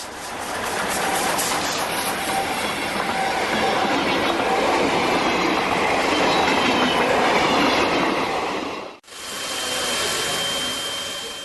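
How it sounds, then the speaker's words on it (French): A historic Ajecta passenger train hauled by steam locomotive 141 TB 407 rolls past with a steady loud rumble and rhythmic wheel clatter, briefly cut off near the end, then continuing. "la magnifique rame historique de l'Ajecta, acheminée depuis Longueville par la 141 TB 407."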